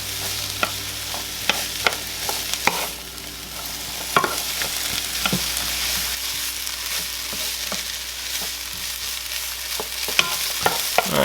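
Onions and poblano peppers seasoned with black pepper sauté in a skillet, a steady close sizzle broken by scattered sharp clicks and scrapes of stirring, with no talk.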